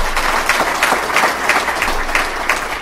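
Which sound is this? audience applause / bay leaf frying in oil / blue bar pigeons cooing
audience applause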